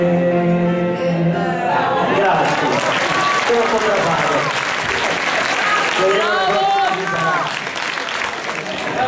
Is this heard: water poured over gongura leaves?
no